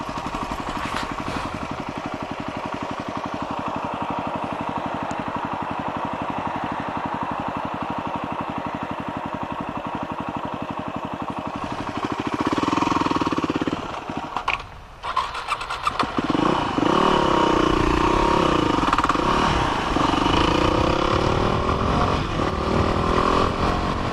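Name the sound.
motocross race bike engine running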